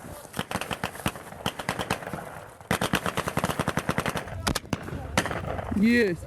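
Rapid bursts of automatic gunfire from a machine gun firing blank cartridges, loud and close, sharp repeated cracks in several volleys with brief pauses, then a shrill whistling tone at the end.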